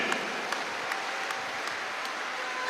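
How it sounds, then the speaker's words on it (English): Congregation applauding in a church during a testimony service, a fairly quiet, even spread of many hands clapping at a distance, with a few louder claps now and then standing out. "Give Jesus a clap of him"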